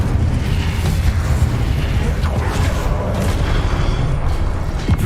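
Incendio fire spell in the Hogwarts Legacy video game, a loud, dense rumbling blast of roaring fire and booming low-end noise that fills the whole clip.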